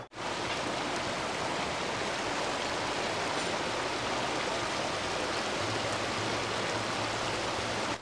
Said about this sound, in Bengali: একটা আমি কথা না বলে আপনাদেরকে শুধু জলের আওয়াজটা শোনাবো।